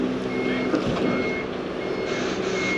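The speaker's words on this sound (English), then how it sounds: "they've decided to ask him to reverse" A truck reversing at a Wickes site, its reversing alarm giving repeated steady beeps over a loud diesel engine rumble close by, with no speech.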